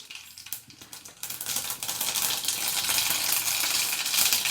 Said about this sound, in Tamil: எண்ணெய் சூடானதும் கொஞ்சம் கடுகு சேர்த்துக்கலாம்.